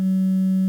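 A steady, pure electronic tone from a synthesizer's complex VCO oscillator producing a near sine wave holds at one pitch with a faint edge of overtones, sounding alone and unchanging for under a second before cutting off.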